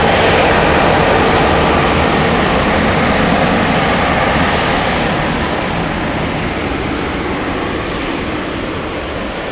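A two-year-old Cathay Pacific Airbus A350-1000 airliner passes up close at Amsterdam Schiphol on its flight to Hong Kong, its jet engines a loud, continuous roar filling the whole span, alone and fading only slightly toward the end.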